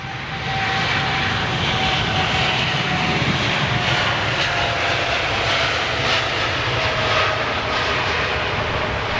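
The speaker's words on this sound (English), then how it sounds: "Air India's Dreamliner. Good to see them still flying, of course." An Air India Boeing Dreamliner jet at London Heathrow gives off a loud, continuous engine roar that holds steady throughout, with no talking.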